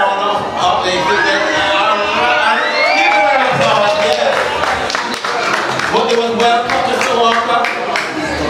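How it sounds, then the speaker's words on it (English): Wedding guests at a Jamaican reception cheer, whoop and clap loudly right after a cake cutting, a dense, close crowd roar with shouts rising over steady applause throughout. "Give them a round of applause."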